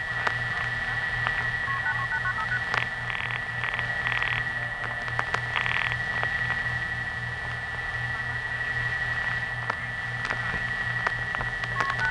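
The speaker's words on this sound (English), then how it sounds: "Multi-frequency tones." Short bursts of vintage multi-frequency telephone signalling tones from the 1976 Long Island phone network sound in quick succession over a steady line hum and a constant tone.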